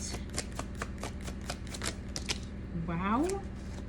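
Tarot cards are shuffled and drawn in a quick series of crisp, rhythmic flicks and riffles, close and fairly faint. A voice briefly sounds near the end.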